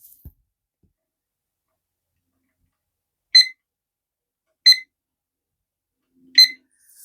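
A kitchen timer is set while two-part deep-pour resin is measured out, giving three short, crisp electronic beeps spaced a second or two apart in otherwise silent surroundings.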